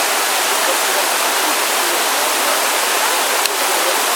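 The Krushatsky waterfall in the Carpathians: a constant, dense roar of rushing water fills the scene evenly, loud and unbroken throughout.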